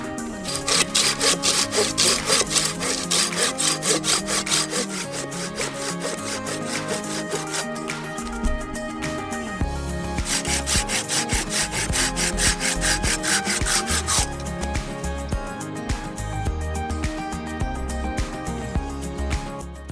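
A folding camping saw with a rubbery grip cuts through wood in fast, steady back-and-forth rasping strokes, close and loud throughout, with the tone shifting as the cut deepens and no voices.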